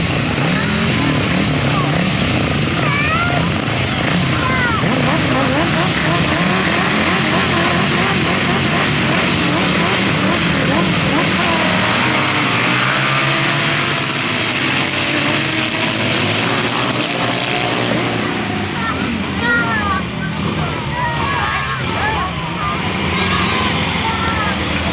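Grasstrack racing motorcycles at a 1991 meeting roar continuously for the whole stretch, a dense, loud engine drone with rising and falling revs as bikes pass, under constant excited race commentary.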